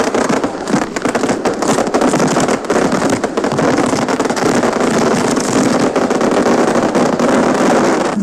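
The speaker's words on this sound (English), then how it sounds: "I breathe fireworks, sparklers, Roman candles, and big skyrockets." Dense crackling and hissing fireworks, evoking sparklers, Roman candles and skyrockets breathed by a dragon, run loud and continuous throughout with no speech.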